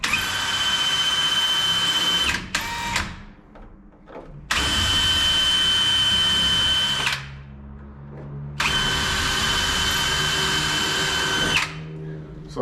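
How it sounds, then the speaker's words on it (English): A power drill with a 1/8 inch bit bores pilot holes into wood in three long, loud, high-pitched whirring bursts close by, separated by short pauses with quieter rattling in between. "I'm going to run the same bit into the wood."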